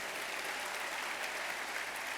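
Steady crowd applause for sponsors at an education awards ceremony, an even, sustained patter of many hands clapping at moderate distance with no speech.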